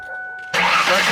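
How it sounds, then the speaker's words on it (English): A 1997 Ford Taurus engine cranks and catches, a sudden loud broadband roar after a brief quiet chime-like hum, close to the car and without talk. "start the car"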